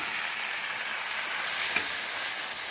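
Soaked sama rice roasting in ghee over a low flame, a steady soft sizzle and hiss with no talk, holding even throughout and swelling slightly near the end.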